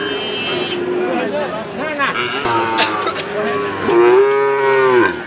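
Sahiwal bulls and calves low loudly at the Ambari livestock market in Parbatipur, Dinajpur, with several drawn-out moos, one long and strong near the end, over a steady crowd murmur.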